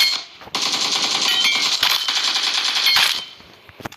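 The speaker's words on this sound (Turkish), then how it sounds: "Mesela adam burada siz adamın kafasına ateş ediyorsunuz." Rapid automatic gunfire in the mobile battle royale PUBG Mobile, a loud continuous rattling burst of shots lasting about two and a half seconds with a short pause between volleys, heard alone without talk.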